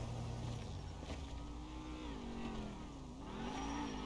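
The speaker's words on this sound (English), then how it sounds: "that car sound good, bro" A Chevrolet C10 on Forgiato wheels in GTA 5 revs its engine with a loud, continuous low rumble that rises and dips in pitch, sustained throughout with no talk.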